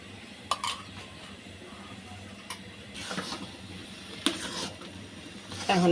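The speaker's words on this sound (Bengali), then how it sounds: "এখন আবারও ভালো করে নেড়ে দিচ্ছি ঘি দেওয়ার পরে।" A spoon stirring thick lentil halwa in a pan after ghee goes in, scattered scraping knocks and metallic clinks spaced irregularly, with a louder clatter near the end, close by and without voices.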